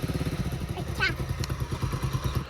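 Motorcycle engine running after being push-started, a steady near chugging idle with rhythmic thumps, some clatter and voices around it.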